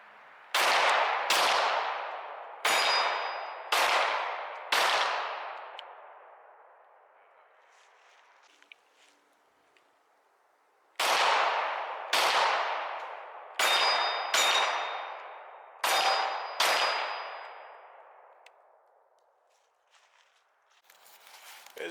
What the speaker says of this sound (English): I did hit the steel targets